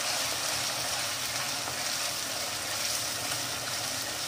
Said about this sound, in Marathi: आणि त्यानंतर जी कांद्याची पेस्ट केली होती ती टाकूया। आणि याला छान परतून घ्यायचं